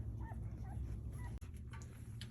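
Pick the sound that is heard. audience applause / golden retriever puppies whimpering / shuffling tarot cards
golden retriever puppies whimpering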